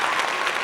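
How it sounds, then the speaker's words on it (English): A brief burst of applause sound effect, a dense wash of clapping lasting under a second. "We'll put in an applause right there."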